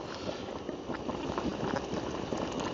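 Pre-boiled water poured into a dehydrated meal pouch on a hiking and wild camping trip, a steady bubbling, gurgling trickle of liquid, close and continuous with no talking.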